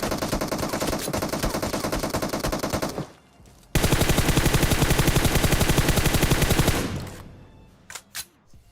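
Loud sustained automatic gunfire from PUBG Mobile rattles in two long rapid bursts separated by a short gap, followed by a few scattered single shots that fade out.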